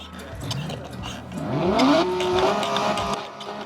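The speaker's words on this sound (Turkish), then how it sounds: "Ama benim daha çok Porsche 911 GT3 bunun sesi daha çok hoşuma gitti." A Porsche 911 GT3 engine revs up, its pitch rising and holding, loud and fairly close, with no one speaking.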